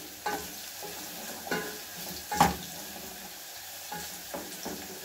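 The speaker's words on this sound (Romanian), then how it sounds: "Călim usturoiul un pic aici, până schimbă culoarea" Garlic frying in a pan, with a quiet sizzle and several soft stirring scrapes spaced about a second apart.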